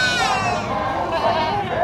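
A goat bleats loudly and close by in a long, wavering cry, sustained across the whole moment.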